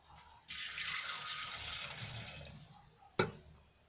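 About one glass of water poured into a pressure cooker for boiling drumsticks, a steady splashing pour lasting a few seconds, then a sharp clink as it stops.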